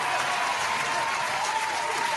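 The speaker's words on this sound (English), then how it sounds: "round of applause for our featured guest, Dennis Hobbs" An audience claps steadily for a featured guest, Dennis Hobbs, in dense, continuous applause with no break.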